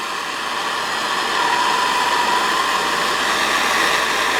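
A torch flame heating copper water pipe for soldering gives a steady, close broadband roar that holds even throughout with no breaks.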